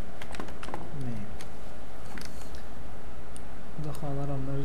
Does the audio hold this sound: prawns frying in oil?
no